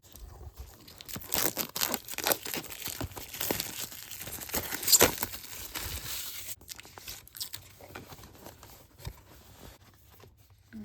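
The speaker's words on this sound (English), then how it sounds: "So we're gonna go ahead and unbox this." Close, quiet crinkling and tearing of packaging while unboxing a Hollyland Lark M2 wireless microphone kit, with irregular crunchy rustles and sharp rips coming in bursts, then tapering off.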